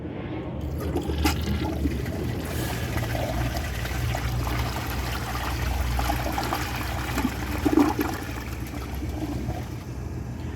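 A 1994 American Standard toilet flushes and rinses its bowl, a steady close rush and gurgle of water that keeps swirling for about ten seconds, alone without talk.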